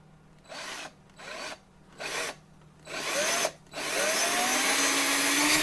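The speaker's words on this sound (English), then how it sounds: "And I'm just going to drill a hole in straight from the top." A power drill boring a hole straight down into the top of a simple wooden birdhouse, in four short bursts that grow longer, then a final sustained run, close and loud with no talk.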